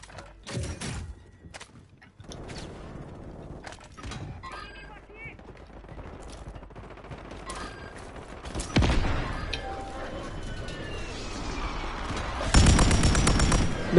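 Rapid gunfire bursts and single shots in a shooter video game crack out intermittently, growing louder and denser toward the end, with a voice talking between the shots.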